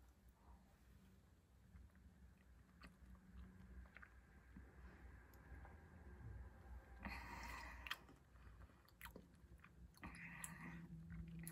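Grape-flavoured konjac jelly shaped like a grape with its skin, chewed close to the mic in a steady run of soft, wet squelching bites over faint background hiss, with a couple of sharper louder bursts partway through.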